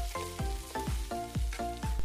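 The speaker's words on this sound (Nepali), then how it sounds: "अब यसबाट तेल हल्का निस्किसकेको छ, राम्रोसँग भुटिसकेको छ। केही बेर मजाले भुट्दा भुट्दै रातो हुन्छ।" Wild kalij pheasant meat fries in oil as it browns, a loud, continuous sizzle with regular scraping stirs repeating about twice a second, close by.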